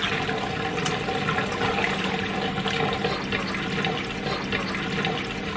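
Steady splashing and sloshing of water throughout as filter material from a turtle-tank siphon is swished and rinsed in a bucket of clean water, fairly close and continuous.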